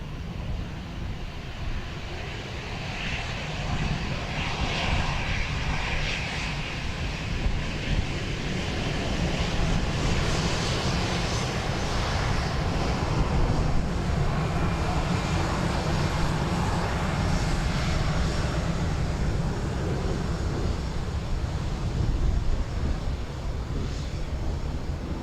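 An airliner landing at Dublin Airport, heard as a steady, loud engine roar mixed with wind rush, holding broad and even throughout with no voices over it.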